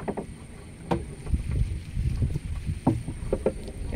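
A small boat is poled backwards at night while checking fishing nets: soft water swishes and a few wooden knocks, with light wind noise outdoors.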